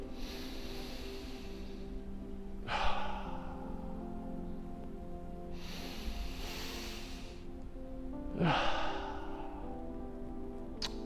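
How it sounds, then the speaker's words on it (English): Deep, intense circular breathing during a guided breathwork exercise: a few long, airy whooshing breaths rise and fade over a steady tonal background. "Keep going for another 30 or 40 seconds with this deep intensity. It is circular breathing."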